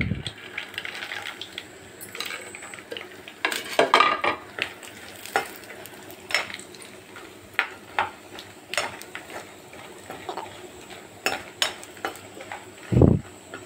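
Ingredients for veg paneer pulao fry in a pan, with frequent clinks and scrapes of a utensil stirring against the metal and faint sizzling underneath, heard up close.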